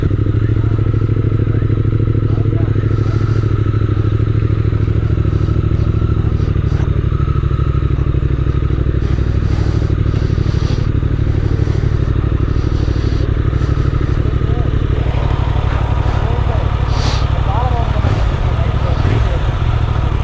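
Triumph Speed Twin 1200 motorcycle engine rumbling steadily while riding, a continuous loud low drone with wind and road noise, occasional clatter, and people talking over it.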